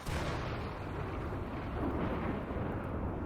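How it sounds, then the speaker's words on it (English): Dry thunderstorm in the video game RimWorld: a loud, continuous low rumble of thunder rolls on without a break, dense and heavy, with no voices over it. "Cause oh boy, there's a dry thunderstorm."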